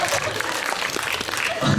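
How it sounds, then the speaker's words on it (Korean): An audience applauds throughout at a film screening talk event for the musical Hedwig, a dense steady wash of clapping that fills the short moment, with voices faintly mixed in. "박수를 치시네."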